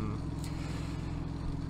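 A car in the Turkish video game Laura Silver'ın Talihsiz Maceraları gives off a steady, loud low engine hum and rumble with a slight vibrating quality, continuous and without pauses.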